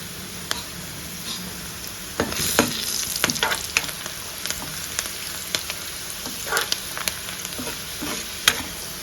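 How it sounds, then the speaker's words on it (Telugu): Tempering spices crackle and sizzle in hot oil for a drumstick-leaf rasam, a steady close frying hiss punctuated by frequent sharp pops and spatula stirring scrapes. "ఇప్పుడు పోపు అనేది బాగా వేగడానికి"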